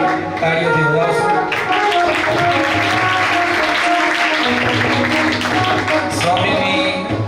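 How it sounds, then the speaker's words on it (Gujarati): Steady applause from an audience at a Swaminarayan satsang gathering in Bhachau, a dense wash of clapping sustained throughout with some voices mixed in underneath. "ખૂબ તાળીઓથી વધાવશું."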